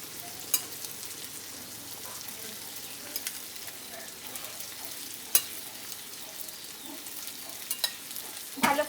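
Cooked rice tossed into a hot pan and stir-fried for restaurant-style mixed fried rice, a soft steady sizzle with occasional sharp scrapes and clinks of a spatula against the pan.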